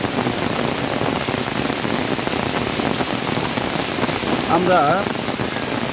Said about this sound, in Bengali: বৃষ্টির মধ্যে এই যে মাঠ ভরা জল, তার মধ্যেই বল খেলা